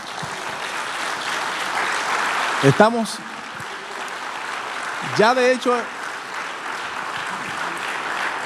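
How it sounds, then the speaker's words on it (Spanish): Church congregation clapping for the Lord during a Spanish-language sermon, a steady wash of applause running throughout with brief shouts rising over it and a speaking voice. "¿Qué crees si le das un aplauso al Señor?"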